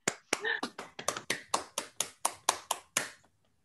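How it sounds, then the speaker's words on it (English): A small audience claps after an academic talk on phylogenetic networks, with about a dozen sharp, evenly spaced hand claps close by that stop abruptly, and a brief voice near the start. "let's all give uh, Simona another clap of applause for a very nice talk"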